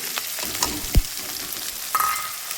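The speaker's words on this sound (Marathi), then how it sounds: "मोहरीचं तेल मस्त कडलेलं आहे बघा छान गरम झालं आहे तर आता मी ह्यात टाकून घेते जिरं कांदा हिरवी मिरची" Cumin, onion and green chilli frying in hot mustard oil for poha, a steady close sizzle with a sharp crackle burst near the middle and a brief hiss later, no talking.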